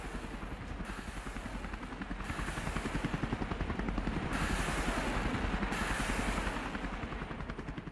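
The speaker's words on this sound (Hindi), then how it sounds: "Mi-28 हेलीकॉप्टर ने यहां पर फ्लेयर्स छोड़े हैं, यूक्रेनी ठिकानों को टारगेट किया है।" An Mi-28 attack helicopter over Ukrainian positions, its rotor thudding in a steady rapid beat that swells louder midway, with broadband bursts of flare launches layered over the continuous roar, heard alone without voices.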